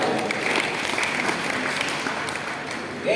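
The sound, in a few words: audience clapping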